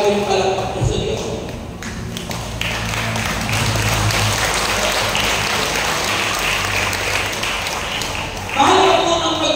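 A church congregation at a healing service in Banadero, Batangas claps in a steady, sustained wash for about nine seconds, with voices mixed into the crowd sound.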